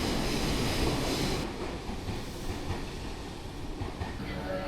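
A Tobu Liberty train runs past on a Tokyo line near Asakusa, a fairly quiet steady rumble of wheels that eases slightly as the cars go by.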